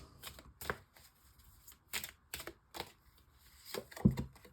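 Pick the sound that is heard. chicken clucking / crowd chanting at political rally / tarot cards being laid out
tarot cards being laid out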